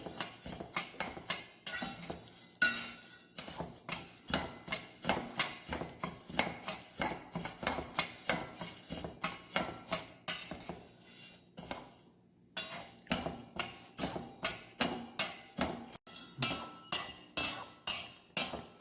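Chana dal dry-roasting in a heavy pan, stirred with a metal spoon: a steady run of close, loud scraping clinks and rattling taps against the metal, repeating rhythmically with a brief pause midway.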